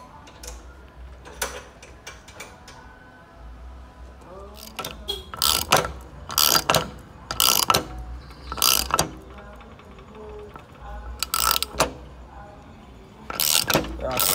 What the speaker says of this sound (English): We are crimping the hose,